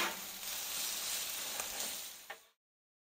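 Jambalaya with peppers sizzles on a griddle cooling on residual heat, a steady soft crackling hiss that runs alone for about two and a half seconds, then cuts off.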